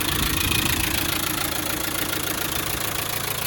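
Land Rover Defender 90 Wolf soft top with a 300Tdi diesel engine idling steadily, a continuous close rumble with an even mechanical clatter and no talk.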